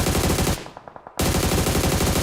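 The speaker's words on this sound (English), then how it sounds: "Gunshot that is." Rapid automatic gunfire in a PUBG Mobile tournament match, loud sustained bursts that briefly drop to a few quieter spaced shots before the heavy firing resumes.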